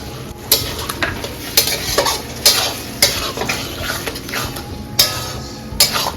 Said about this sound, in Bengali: এটার মধ্যে আমি এখন ঢেলে দেব এক কাপ পরিমাণের মতো দই এই যে দিয়ে দিলাম দই